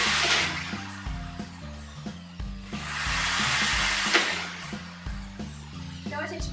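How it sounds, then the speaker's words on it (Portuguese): An electric drill bores holes through the side wall of a home compost box, giving bursts of whirring and grinding at the start and again midway, over faint background music. "com muito cuidado, a gente vem aqui na lateral da caixa e começamos os nossos furos"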